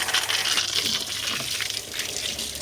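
Water from a hose gushes out under high pressure while garden plants are watered, a continuous rushing, splashing hiss that stays fairly loud and even from start to finish.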